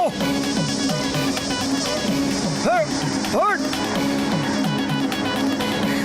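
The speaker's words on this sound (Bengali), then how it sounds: "আর এই মশাটা কোথা থেকে এলো?" A cartoon mosquito buzzes continuously through a Motu Patlu scene, a thin whining drone with swooping pitch bends, heard over music and other sound effects.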